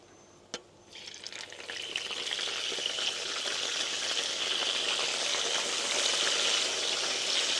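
Stuffed cencaru fish filled with sambal frying in hot oil, a steady close sizzle that swells up after a brief knock and then holds loud and even throughout.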